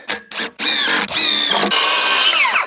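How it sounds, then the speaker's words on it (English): Power drill driving screws into a fence post in extreme cold, a couple of short revs and then sustained loud high-pitched whining runs, close and dominant, with no talking. "So we're gonna go ahead and put in some screws into the back here."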